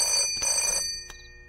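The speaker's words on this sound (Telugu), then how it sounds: "మీ వాడెవడో పొద్దు నుంచి ఫోన్ చేస్తున్నాడు." A telephone rings in bright electronic bursts, one long ring then a brief second pulse, moderately close and fairly quiet with no talking.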